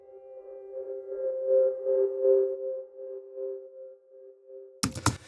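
Soft, sustained piano undertones from the Foundations Piano library pulse gently in slow waves, swelling and fading over a steady held note, followed by a sudden short burst of noise at the end.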